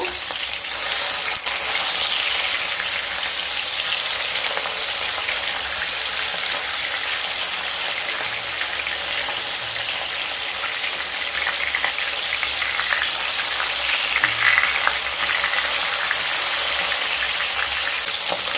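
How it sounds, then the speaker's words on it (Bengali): Fish fries in hot mustard oil for a steady, loud sizzle that runs evenly throughout, with no talking, as the second side of the Assam-style masor tenga fish curry pieces crisps in the pan. "দুটো সাইড মাছ খুব ভালোভাবে ভাজা হয়ে গেছে"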